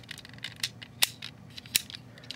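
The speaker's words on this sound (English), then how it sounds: "these are specific ratchets" A KO Aeralbots toy robot figure's ratcheting joint gives a few sharp, close plastic clicks, two standing out loudly among softer ticks and rustles.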